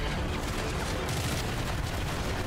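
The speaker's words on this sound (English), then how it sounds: "that's a grenade launcher" Grenade launcher firing in Call of Duty Modern Warfare 3, dense continuous battle noise with rumbling blasts and crackling gunfire, loud and unbroken throughout.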